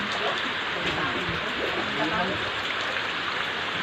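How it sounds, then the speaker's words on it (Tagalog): Heavy rain pours down during flooding at a market compound in Hagonoy, a dense, constant hiss close by with a person talking faintly underneath. "ang lakas pa ng ulan at saka"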